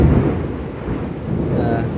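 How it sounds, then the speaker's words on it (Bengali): Thunder rumbles through a heavy downpour after a hot day, a loud low continuous roll over steady rain hiss, with no talking. "মেঘের ডাক শুনতে পাচ্ছেন অবশ্যই"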